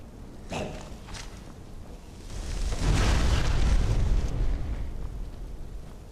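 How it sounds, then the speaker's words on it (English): A deep, rumbling Fireball spell explosion in the video game Skyrim swells up and roars for a couple of seconds before slowly fading, with a few smaller thumps leading in. "And sure, Fireball does a big explosion."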